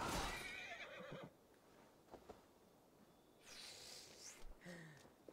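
Horse neighing in Assassin's Creed Valhalla, a loud whinny at the start followed by quieter snorts and game ambience, with a second brighter call later on.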